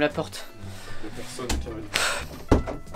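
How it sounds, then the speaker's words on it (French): A door being shut in a room at night, producing a few wooden knocks and a closing thud amid lively talk from children and adults. "Ferme la porte."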